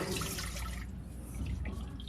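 Water drains out of the disconnected sink trap of a mobile wood-fired pizza oven's sink pod, a steady watery rush and trickle that holds at a moderate level throughout, with no voices.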